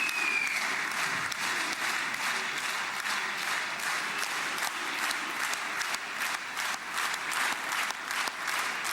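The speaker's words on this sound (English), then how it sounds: "There was applause," A crowd in the Israeli Knesset breaks into sustained applause at the start of a speech by President Trump, a dense, continuous roar of clapping that stays steady and full throughout, with no voices on top.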